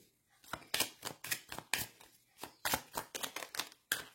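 Oracle cards being shuffled by hand, a quick run of crisp papery riffles and slaps in irregular bursts, close and moderately loud with no talking.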